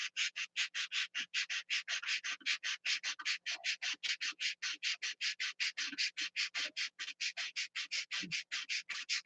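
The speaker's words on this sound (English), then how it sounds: "Round little circles to sand" Close, rapid, evenly timed rubbing strokes, some forty in all, come from hand sanding a groove in small circles, with no talk.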